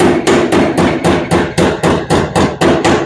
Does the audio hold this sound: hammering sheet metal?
yes